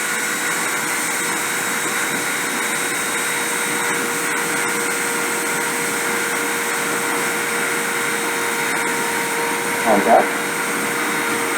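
A CNC spindle spun up to 30,000 RPM during deposition gives off a steady, loud high-pitched whine with a constant tone, continuous throughout, and a brief spoken word near the end.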